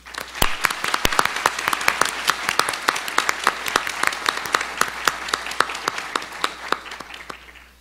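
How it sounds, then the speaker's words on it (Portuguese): A small audience claps at a panel event, individual hand claps distinct and irregular in a steady, moderately loud round that tapers off at the end. "gostaria de pedir uma salva de palmas para eles"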